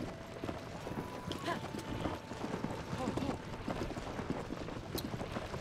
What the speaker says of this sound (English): Yuki is not a speedy horse, but she is a strong horse